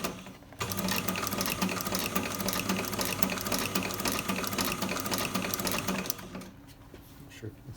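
A sewing machine runs steadily, stitching a row across a dog-chewed leather boot, with a loud continuous mechanical whir that starts after a brief pause and eases off near the end.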